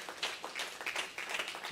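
An audience clapping at a large gathering in Kaziranga, a lively patter of many hands with small louder surges, moderately close and not accompanied by talk.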